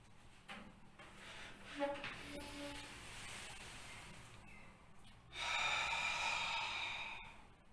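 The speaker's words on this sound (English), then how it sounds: "Once you have reached the maximum level, try to breathe through the mouth." During a post-COVID breathing exercise, a person exhales through the mouth in a long, breathy rush near the end. Softer sighing breaths come earlier, and the whole passage is quiet and close.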